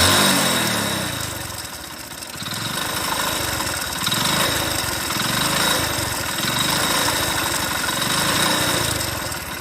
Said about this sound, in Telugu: సెకండ్ డబ్బాలో ఇంజన్ పోయిన బండి సౌండ్ అనమాట